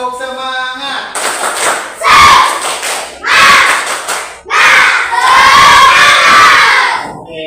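A group in a school classroom setting performs the Indonesian tepuk semangat clapping chant, loud rhythmic claps and shouted voices in several bursts, led by a single voice at the start.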